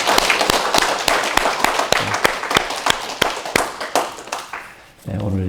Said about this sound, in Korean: 힘찬 박수로 격려해 주시면 감사하겠습니다.